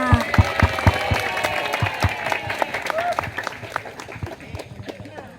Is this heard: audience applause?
yes